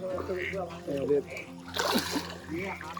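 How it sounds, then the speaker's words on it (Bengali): Swimmers in a resort pool at night in Sreemangal make a brief burst of splashing and sloshing water midway, partly under nearby voices talking throughout. "সুইমিং করছি রাতের বেলায়"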